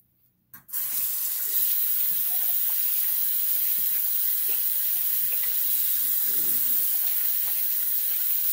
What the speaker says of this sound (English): Rinse off my brush really quick.